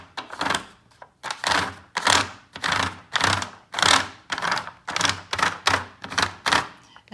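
A simple grater rubbed across paper in rhythmic scraping strokes, about a dozen short rasping bursts in steady succession, close and fairly loud with brief pauses between each pass.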